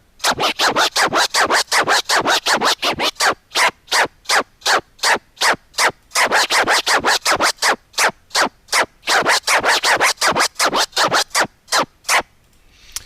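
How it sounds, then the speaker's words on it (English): Rapid back-and-forth record scratching on a turntable, a steady run of sharp, rhythmic scrubbing strokes close up, with no talking. "So I'm going to do a basic baby scratch forwards and backwards"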